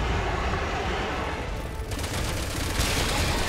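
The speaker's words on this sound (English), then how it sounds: "I'm getting some shots on him this time." Sustained gunfire in the Resident Evil 6 game, a rough continuous roar of rapid shots merging into a dense wash, loud and steady throughout with no clear gaps.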